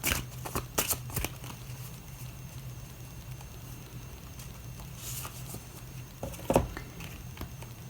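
Playing cards from a dragon oracle deck being drawn and handled, soft papery flicks and shuffling taps clustered at the start and again later, close and quiet with no talking.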